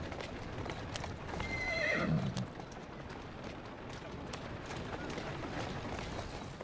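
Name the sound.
horse hooves and neighing, video game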